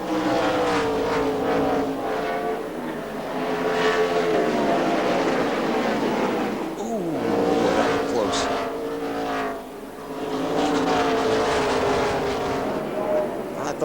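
Race cars roar through a corner at Memphis in a 2005 Busch Series race, engines sustained and loud with shifting pitch as the pack passes, under continuous commentator talk.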